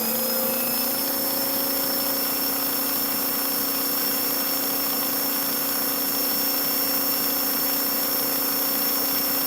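A stock Super 7 slot car motor runs on a dyno at about 18 volts, producing a steady, loud high-pitched electric whine with constant tones and no talking.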